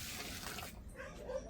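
Water poured from a container into planting holes in soil, prepared for planting cassava (yuca): a steady close splashing and gurgling that fades partway through, leaving softer trickles.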